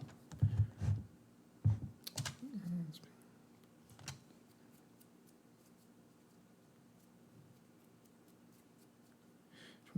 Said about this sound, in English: I'm going to switch to my typewriter camera so you can get to check me out writing out this poem.